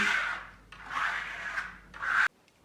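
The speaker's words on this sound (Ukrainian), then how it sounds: "просто беремо на шпатель трошки вільвета і гарненько збираємо повністю по стінах це все" A spatula spreads and smooths decorative velvet paint across a wall, giving three close scraping strokes of rough rubbing texture, each a second or less, the last ending abruptly into quiet.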